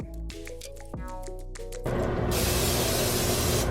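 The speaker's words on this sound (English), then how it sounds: "You wanna spray a non-stick spray to a pan." Non-stick cooking spray hisses onto a pan in a kitchen, a loud, continuous aerosol blast lasting about two seconds. It follows a stretch of faint background music with soft clicks.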